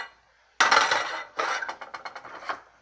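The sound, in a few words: stirring beans in a pot with a bamboo spoon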